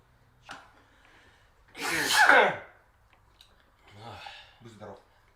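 A person sneezes once, loudly and close, with a sharp inhaled build-up and burst, surrounded by quieter breaths and brief talk from others nearby.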